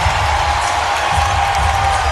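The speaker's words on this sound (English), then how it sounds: "Listen to this crowd." A roar from about 9,000 fans in a Texas Longhorns basketball arena holds steady and loud throughout, a dense wash of cheering with no gaps.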